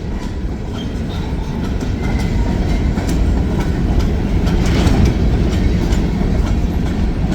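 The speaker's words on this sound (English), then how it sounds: "I guess this whole train's going into Green Bay." Freight train of nearly 80 cars pulled by two vintage locomotives rolls past close by, a steady loud rumble of wheels and rail noise with faint clattering throughout.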